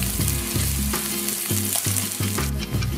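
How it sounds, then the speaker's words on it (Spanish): Mushrooms, white and red onion and meat sizzling loudly in a pan, a steady crackling fry broken by several scraping stirs and knocks against the pan. "Champiñón, cebolla blanca, cebolla morada al sartén"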